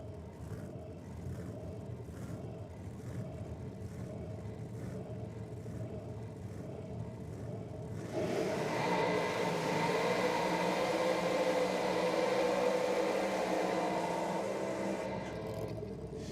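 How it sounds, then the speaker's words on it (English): Drag racing cars, a Nova and a Gemini, do side-by-side burnouts at Sydney Dragway. A low rumble gives way abruptly to a loud, sustained roar of engines and spinning tyres that eases off near the end. "Nice side-by-side burnouts."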